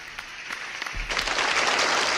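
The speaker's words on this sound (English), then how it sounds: "Round of applause for Sarah Snook." An audience breaks into applause for actress Sarah Snook, starting with a few scattered claps and quickly swelling into loud, sustained clapping.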